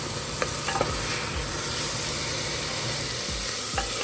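Potatoes and peas stir-fried in thick spiced masala for ghugni, with a steady soft sizzle broken by a few scraping stirs of the spoon in the pan, heard up close with no talking.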